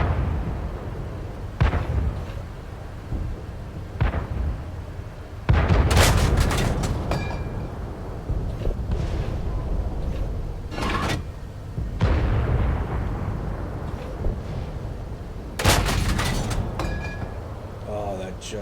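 Heavy steel tank in a video game firing its cannon several times, each shot a loud sharp boom with a rolling tail, spaced unevenly across a steady rumbling background.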